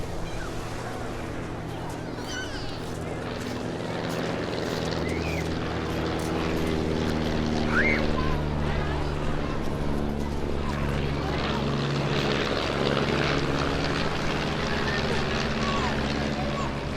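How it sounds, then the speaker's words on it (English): Stampe biplanes perform an aerobatic display at the Eastbourne airshow, their propeller engines droning at middle distance and swelling louder and nearer before holding steady over an open-air background. "Slipping in an aileron roll there, now repositioning a lovely, huge, wide, arcing wing over to our left-hand side."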